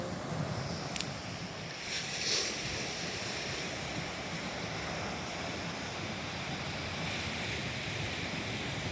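Ocean surf at Ahangama surfing beach, a steady broad roar of breaking waves mixed with wind rumbling on the microphone, continuous and fairly loud with no talk.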